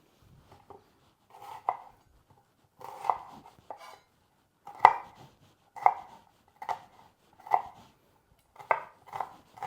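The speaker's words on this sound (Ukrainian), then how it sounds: "почистила я цибулю і чесник. І тепер наріжемо її мілким кубіком" A knife finely dices onion on a cutting board in short bursts of several taps, pausing between each run, close and fairly quiet with no voices.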